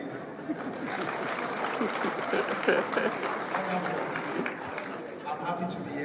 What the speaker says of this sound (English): Please clap again.